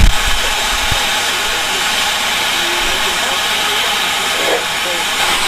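A small steam locomotive built in Munich in 1925 hisses loudly and steadily close by on a heritage railway, a broad continuous rush of escaping steam with faint background voices.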